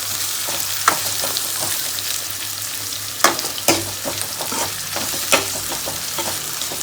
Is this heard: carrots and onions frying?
yes